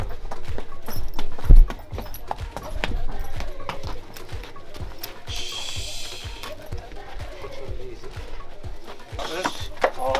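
Mule hooves clop on a rocky cliff-edge path at Petra, Jordan, in a close, steady stream of hard rhythmic steps, while people talk in the background.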